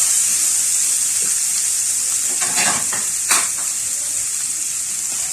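Garlic and ginger frying in a pan give a steady, bright hiss of sizzling oil, with a few soft stirring scrapes and knocks partway through, close and continuous.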